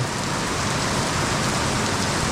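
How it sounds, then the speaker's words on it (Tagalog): Heavy rain pours down steadily, a loud, continuous hiss of drops hitting surfaces close by. "Paghapon magdamag na naman po ang ulan."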